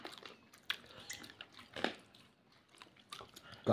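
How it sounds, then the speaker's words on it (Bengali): Fried bhola fish being bitten and chewed at close range, a few soft crunchy bites and chewing sounds, quiet with no talking. "সেই কারণে ও ভোলা মাছ খাচ্ছে"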